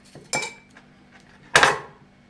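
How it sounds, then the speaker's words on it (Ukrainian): A knife cuts a pepper into pieces on a board, with two sharp, crisp chops about a second apart, close and fairly loud, followed by quiet. "Ріжу кусочками перець."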